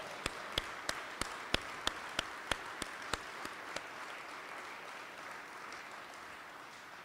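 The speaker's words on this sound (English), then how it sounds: "Come on, everybody, big round of applause." An audience applauds instructors at an apprenticeship graduation, with a sustained wash of distant clapping and one nearby pair of hands beating a sharp, even rhythm that fades after a few seconds.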